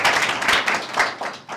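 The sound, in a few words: audience applause welcoming interviewee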